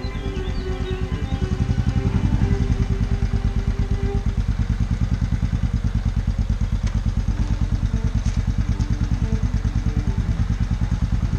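Motorcycle engine running steadily after a start button replacement, a loud, close idle with an even, rapid thumping pulse and faint mechanical clatter throughout.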